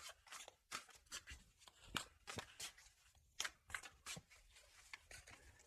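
Tarot cards are shuffled in a series of quick, soft riffling bursts, close and fairly quiet, with short pauses between each flurry.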